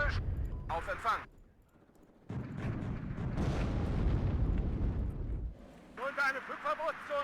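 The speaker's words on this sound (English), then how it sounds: "Won't be able to dodge that tank shell though" A tank shell explodes in the WARNO real-time strategy game with a deep, rumbling blast that rolls on for about three seconds. Someone commentator talks just before and after it.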